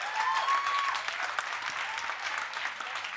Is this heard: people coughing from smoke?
no